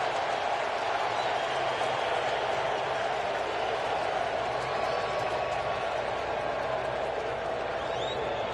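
Crowd noise at a baseball stadium during an NLCS playoff game between the Dodgers and Braves, a steady, loud roar of cheering that holds unbroken throughout with no distinct voices standing out.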